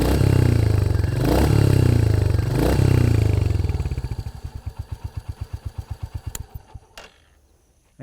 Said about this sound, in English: you can tell us which of the two exhaust sounds you liked in the comments